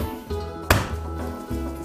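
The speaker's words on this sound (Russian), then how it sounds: "Есть еще один секрет в приготовлении фарша. Его надо отбить." Minced meat is pounded by hand to tenderize it, giving a single sharp slapping thud in a kitchen over a low steady hum.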